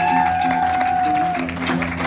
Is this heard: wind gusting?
no